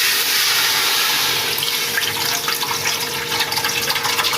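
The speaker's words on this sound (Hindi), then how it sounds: "एक में डालूँगी ये मिल्क पैक जो होता है, सॉरी ऑल पर्स का पैक" Packaged milk pours into a pot for sheer khurma, a steady splashing liquid stream that is loud and close, continuous throughout.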